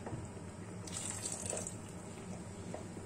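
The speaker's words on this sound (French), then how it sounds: "on le laisse cuire en rajoutant petit à petit l'eau" Water poured gradually into a pan of simmering seafood rice, a soft steady trickle and hiss over the low bubbling of the cooking pot, fairly quiet and close.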